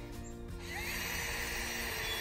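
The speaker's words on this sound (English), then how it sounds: "we've got an uh, a drill here." Power drill boring a small hole upward into a birch tree trunk, a close, steady whining drone that rises in pitch as it spins up and keeps running.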